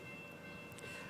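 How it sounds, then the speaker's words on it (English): A parked train idles at a crossing during a gravel bike race, giving a steady low rumble with a faint high whine and brief clanks over the top. "we have a train that decided to park right here."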